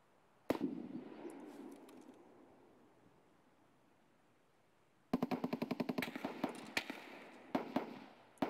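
Distant M1A rifle gunfire on the Shoreline map in Escape from Tarkov: a single sharp shot with a long rolling echo, then a rapid volley of many cracks followed by a few louder scattered shots.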